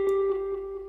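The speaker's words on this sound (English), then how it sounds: "It's this guitar right here that sounds like this," A single guitar one-shot sample played back in FL Studio, one plucked note ringing with a bright attack and steady sustain, heard alone and close.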